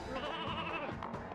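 Sheep bleat in a burst inside the video game Ratchet and Clank 2, a wavering, nasal animal cry mixed with game sound effects and background music, fairly loud and close, with no talk.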